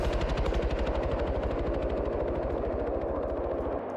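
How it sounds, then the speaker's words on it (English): Helicopters and gunfire during a large multiplayer military game raid on an airfield, a dense, rapid, even chopping of rotor blades mixed with machine-gun bursts, loud and close, fading slightly at the end. "Both the helicopters still sound like they are A-OK,"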